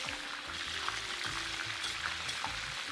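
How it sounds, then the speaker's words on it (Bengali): A leg of lamb fries in very hot oil while oil is spooned over it, giving a steady, close sizzle with soft stirring and scraping sounds. "আমি এই দিকটাকে তেলে ছেড়ে দিচ্ছি।"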